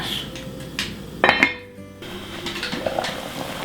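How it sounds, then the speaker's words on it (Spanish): A lid is set onto a pot of boiling broth for Korean fish cake soup, a single sharp metallic clink and rattle midway, surrounded by steady kitchen background noise. "Voy a tapar."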